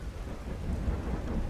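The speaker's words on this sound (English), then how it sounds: "I wake up in the rain." Rain and thunder in the video game Skyrim: a low rolling rumble of thunder builds under a steady wash of rain, with no one talking.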